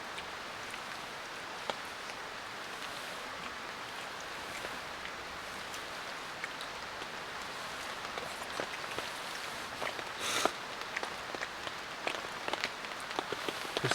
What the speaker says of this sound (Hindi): फिर से बारिश हो गई।